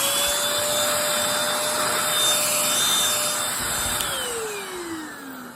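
A Bissell 3 in 1 Turbo Stick (model 2610), converted to hand vac mode, runs steadily with a close, loud motor whine and airflow hiss, tapering slightly in pitch toward the end.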